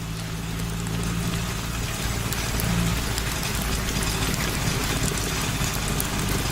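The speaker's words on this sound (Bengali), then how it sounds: "এখন মনে হচ্ছে এই বৃষ্টি এত তাড়াতাড়ি ছাড়বার নয়।" Heavy rain pours down during a night bus ride in a Bengali horror cartoon, a dense, even roar of rainfall over a low vehicle rumble that holds steady throughout.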